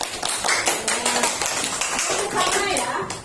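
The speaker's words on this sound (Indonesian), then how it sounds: "Beri tepuk tangan dulu." Schoolchildren in a classroom clap briefly in a quick rhythmic pattern, loud and close, with children's voices mixed in throughout.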